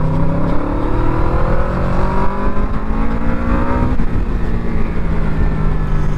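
A Yamaha Vmax motorcycle engine pulling hard under acceleration, a loud, close, steady roar whose pitch climbs continuously with a brief dip around a gear change before rising again, mixed with wind rush.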